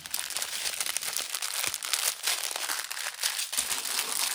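Small paper craft pieces folded and twisted by hand, giving a steady close crinkling and rustling with soft irregular crackles throughout and no talk.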